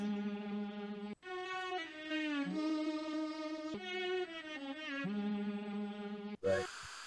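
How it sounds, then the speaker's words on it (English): A chopped-up strings sample rendered to audio: sustained, bright string tones in short held segments with abrupt cuts and pitch changes between them, ending in a brief burst of noise. "So I did that with the strings here. I rendered it out to audio, and then I chopped it up."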